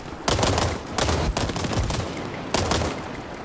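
Bursts of automatic gunfire in a free-to-play shooting video game, three loud close volleys of rapid shots separated by short pauses.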